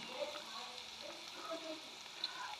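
Dried fish frying in a pan for a curry gives a soft, steady sizzle with faint crackles, fairly quiet and close, with no talking over it.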